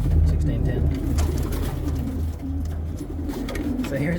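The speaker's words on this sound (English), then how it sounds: "he's a lovely pigeon" A racing pigeon, an ash red spread cock bird, coos in low, repeated throaty burbles close by inside a loft, over a constant rumbling background noise.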